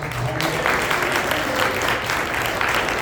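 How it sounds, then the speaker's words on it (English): Audience applause at a business conference keynote fills the room, a steady dense wash of clapping held at even loudness for about three seconds, with faint voices underneath. "Can I get a round of applause for that?"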